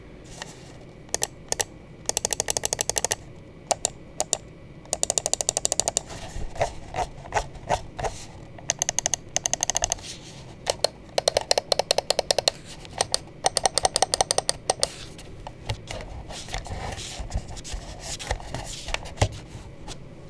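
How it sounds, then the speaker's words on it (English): Bursts of sharp, rapid plastic clicks from a Waizowl OGM Cloud wireless gaming mouse, pressed in quick clusters with short pauses, then lighter rattling and tapping as its build quality is checked, close and alone with no talking. "let's go ahead and drop the click and the build quality sound check"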